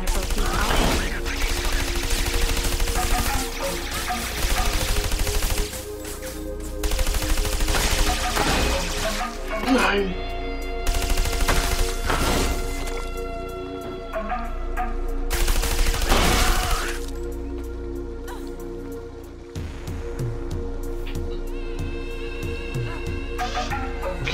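Gunfire from the video game Trials of the Blood Dragon comes as repeated loud volleys of rapid shots and crashes, broken by short pauses, layered over game music and effects.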